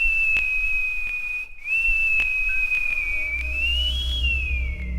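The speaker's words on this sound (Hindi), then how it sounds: "जोर जोर से सीटी बजानी शुरू कर दी" A loud, sustained whistle at night holds a high steady pitch for several seconds, wavering and rising briefly before sliding down, with faint clicks and a low background rumble beneath it.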